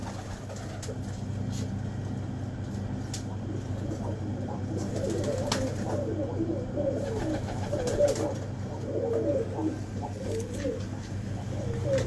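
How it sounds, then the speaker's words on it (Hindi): A pigeon coos repeatedly in soft, rolling phrases at close range, with other birds faintly around and a steady low background hum. "ये कबूतर"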